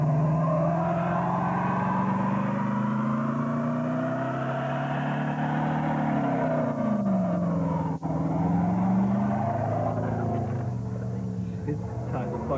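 A 1990 black Pontiac Firebird with a 3.1L V6 holds a loud, sustained burnout, the engine droning at high revs with rising and falling pitch and a brief dip near the end, continuous and close.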